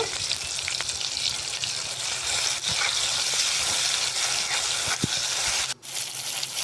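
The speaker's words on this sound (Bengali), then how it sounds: "দেখো টমেটোটা তেলে এরকমভাবে কষে নিতে হবে" Chopped tomatoes cook down in hot oil with a continuous close sizzle, broken by occasional stirring knocks and a brief dip near the end.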